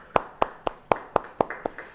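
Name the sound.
congregation clapping for God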